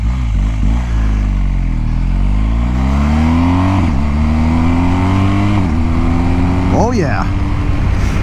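A 2022 Harley-Davidson Street Glide Special with a 131 engine revs up loud and close, pulling through several rising gear sweeps, with a brief voice heard over it.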